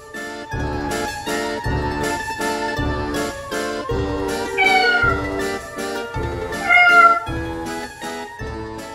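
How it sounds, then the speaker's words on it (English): Cartoon-style cat meows repeat over a bouncy music track with a steady beat and jingling tones, the vocal cries rising above the music in a Halloween setting for young children. "Cat."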